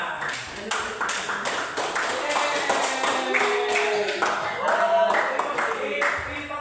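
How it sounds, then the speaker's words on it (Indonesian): Applause for classmates after a poster presentation in a school classroom, a steady patter of many hands clapping at close range with a few voices and small taps mixed in over roughly seven seconds. "Oke, tepuk tangan dulu untuk temannya"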